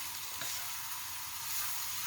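Onions hit oil already frying with curry powder for a fish head curry, giving a soft, steady sizzling hiss that stays even and fairly quiet throughout, with no talking.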